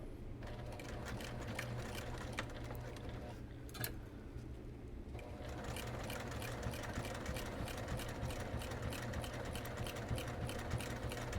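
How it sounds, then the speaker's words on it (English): A sewing machine stitches a pot holder seam, a steady fast mechanical whir running nearly throughout with a short pause partway before resuming, loud and close with no talking. "I'm going to stitch from there all the way to the end"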